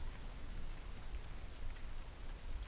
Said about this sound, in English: I'd very much like to get away from this rain and thunder.